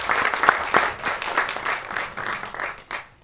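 Audience applause at a directors club album song screening festival, a dense roomful of clapping that swells and fades in waves across the whole stretch.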